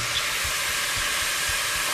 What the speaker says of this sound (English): I always love the sizzle and smell when I add wine of any description to a dish.